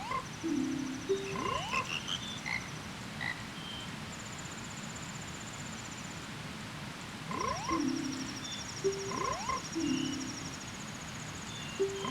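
A frog croaks in the video game Majora's Mask in the snowy mountain village, with short repeated croaks in two clusters over quiet game ambience and faint chiming tones.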